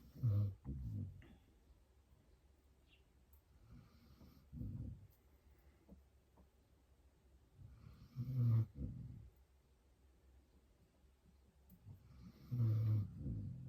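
Slow, heavy snoring in repeated low rumbling bursts, separated by quiet pauses, fairly near.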